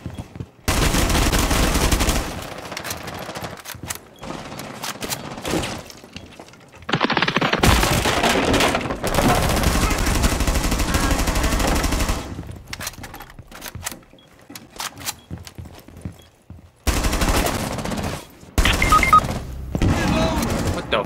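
Bursts of gunfire from the tactical shooter Rainbow Six Siege come in several separate volleys of rapid shots, some loud and close, with a person talking over the game between and during the shooting.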